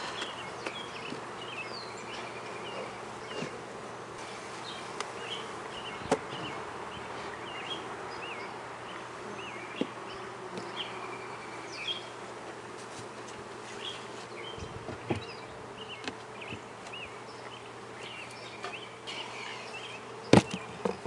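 Honeybees at an open hive fill the air with a dense, continuous buzz, individual bees zipping past the listener now and then in an otherwise quiet outdoor setting.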